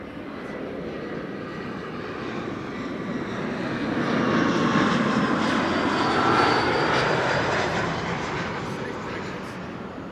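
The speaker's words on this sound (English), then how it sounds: "KLM flight 1070 arrived from Southampton." A KLM Embraer 175 airliner arriving at Amsterdam Schiphol Airport on a flight from Southampton produces a steady jet roar that swells to a peak midway and then gradually fades as it passes at a moderate distance.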